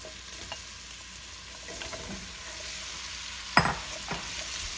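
Onions sautéing in rendered fat sizzle quietly and steadily in a pan, with a sharp scrape of stirring near the end and a few lighter utensil clinks.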